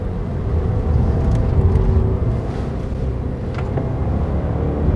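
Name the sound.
Subaru Levorg 1.6 GT-S engine accelerating in sport mode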